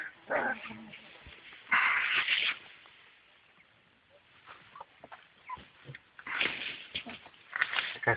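Hungry Carpathian shepherd dogs whine and yelp in several bursts, some close and fairly loud, others softer, with quiet stretches between the outbursts.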